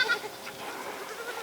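A Kiko goat on a homestead lets out a short, high bleat at the start, then a fainter wavering cry fades over about a second and a half, fairly close and with no talk.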